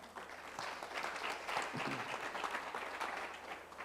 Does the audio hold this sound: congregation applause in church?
yes